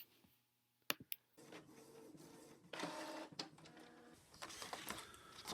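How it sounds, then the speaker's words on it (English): Printer printing labels, starting with a couple of sharp clicks and then settling into a quiet, steady mechanical whir broken by rhythmic feed clatter, close by and with no voices. "send them to the printer to print"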